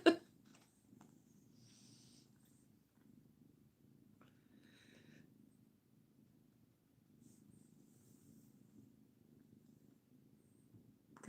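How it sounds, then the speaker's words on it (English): A cat purrs softly and steadily in a quiet room, a faint continuous rumbling that rises and falls with each breath, bracketed by brief louder noises at the start and end. "Gosh, she's purring."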